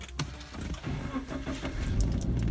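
A car engine cranks and starts close by, then settles into a steady running hum. A faint jingle of keys comes just before it, and no one speaks.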